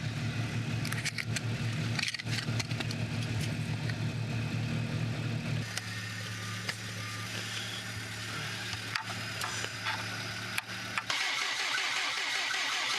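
A car engine cranks repeatedly but fails to start with no spark, giving a rhythmic churning starter whir that shifts pitch and stops and restarts in short runs, close by with no voices.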